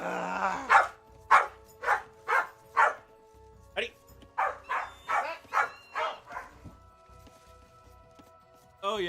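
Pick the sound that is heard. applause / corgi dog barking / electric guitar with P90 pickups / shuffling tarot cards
corgi dog barking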